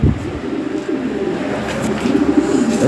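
Breeding pairs of toy Lahori pigeons coo in a low, repeated rumbling pattern, close by and continuous, over faint background noise.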